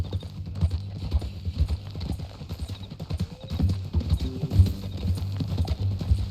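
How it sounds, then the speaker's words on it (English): Horse hooves clip-clopping in Red Dead Redemption 2, a steady rhythmic walking beat of hoof strikes, close and clear, with faint game ambience underneath. "That a new horse?"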